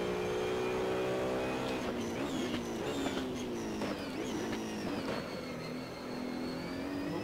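Ferrari 458 race cars in the Assetto Corsa racing game, several engines droning and revving together as cars pull in, a steady dense roar with shifting pitch sweeps and no voices.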